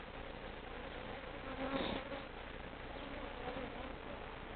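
A dense, steady swarm of agitated honeybees buzzing close by around an open top bar hive, with one louder drone swelling briefly as a bee passes near.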